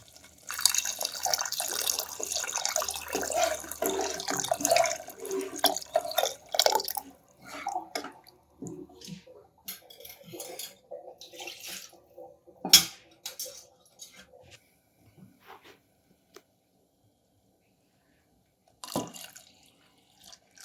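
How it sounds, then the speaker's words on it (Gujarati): Water pours into dal in a pressure cooker for several seconds, then gives way to scattered drips, light splashes and metallic clinks of a utensil against the cooker. "તો પહેલાં તો આપણે એમાં થોડું પાણી એડ કરી દઈશું."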